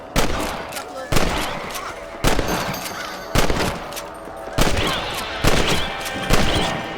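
Seven loud rifle shots in Red Dead Redemption, fired at a steady pace roughly one per second, each a sharp crack followed by a short decaying echo.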